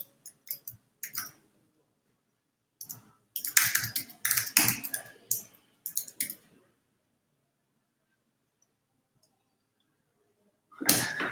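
Short bursts of close typing on a computer keyboard, clusters of rapid key clicks separated by silent gaps, with one final burst after a long pause.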